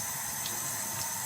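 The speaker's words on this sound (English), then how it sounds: "Turn on the water." Tap water running steadily into a sink for handwashing, a close, continuous hiss and splash with no voices.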